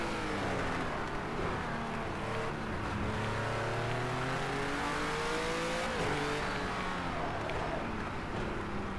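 Steady game car engine drones and revs continuously, pitch sweeping up and down with gear changes and throttle, loud and close throughout with no talk.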